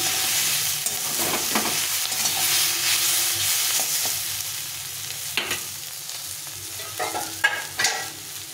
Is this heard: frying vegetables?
yes